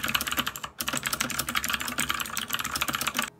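Fast, dense clicky mechanical keyboard switches typed continuously at close range, a crisp rattling stream of keystrokes with one brief gap near the start.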